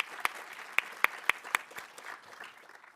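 A handful of separate claps ring out at the Arts at Dartmouth Awards Ceremony, faint and spaced out like a small scattering of applause that fades into a quiet room.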